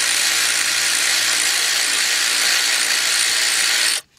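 A power tool whirs loudly and steadily for about four seconds while the brake caliper bolts come off a 2007 Dodge Ram 3500 pickup with a 5.9 engine, then stops abruptly. The sound is close, with no talking.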